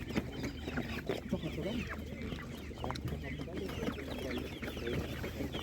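Chickens cluck and call amid steady crowd chatter at an outdoor livestock market in a village near Ivano-Frankivsk, the clucking scattered and fairly close while people talk throughout.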